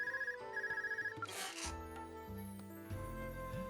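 A cell phone ringing in the video game Trails of Cold Steel, pulsing electronic rings in quick repeated bursts, followed by a brief whoosh and background game music, with no talk.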